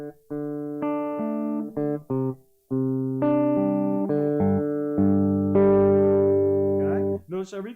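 Electric guitar playing the intro riff of a song, a string of clean picked notes and ringing chord tones, close and steady, with a short break partway through.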